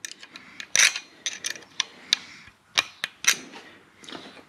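A service bolt being worked out of the scissor gears of a Toyota 1UZ V8 engine: a series of sharp, irregular metallic clicks and knocks, close and fairly loud, with short quiet gaps between them.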